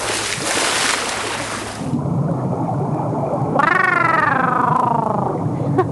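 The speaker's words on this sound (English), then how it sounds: "The ocean sure is big. Wet, too. And it's much noisier than I expected." Ocean waves and surf wash and roar loudly, then fade abruptly to a quieter hiss, followed by a warbling, wavering electronic tone over low rumble.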